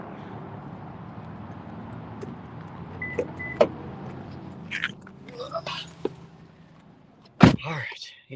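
Someone gets into a car on a busy game-day outing, with a few sharp door and latch clunks and a short power-window whir amid low background chatter, ending in one loud slam.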